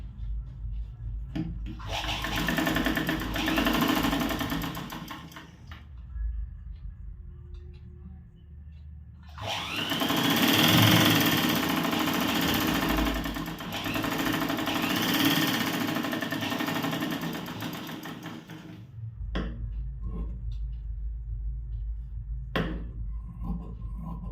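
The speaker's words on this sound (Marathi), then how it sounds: "सरळ टीप मारून घ्यायची आहे" Sewing machine running straight stitches on a blouse: two long stretches of steady, close whirring stitching separated by a pause, then quieter clicks and handling sounds toward the end.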